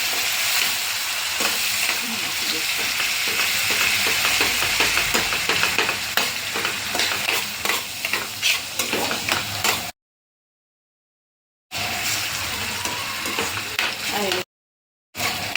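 Two crushed tomatoes sizzle steadily in a pan over low heat while being stirred, a loud continuous frying hiss with scraping stir strokes, broken by two brief silent gaps.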